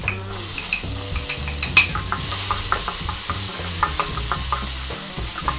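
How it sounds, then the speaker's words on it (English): Onions, garlic and celery sizzle steadily in a hot pan for pancit canton while a utensil stirs and scrapes, with a few sharp knocks against the pan. "We saute the rest of the onions, garlic, and celery."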